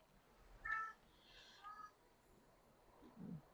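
A cat gives a few faint, separate meows, with a short gap between them and quiet background around them.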